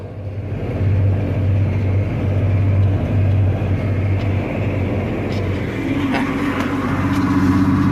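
A new farm tractor drives along at about 6 miles an hour, its engine a steady, close, loud drone with deep rumble throughout, picking up a slightly higher mechanical hum near the end.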